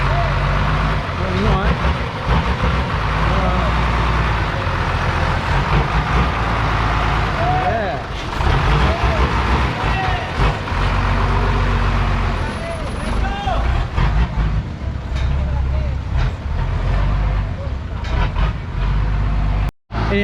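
A small truck carrying a water tank for a humanitarian delivery in the Philippines manoeuvres with a steady rumbling diesel engine close by, while people talk over it throughout.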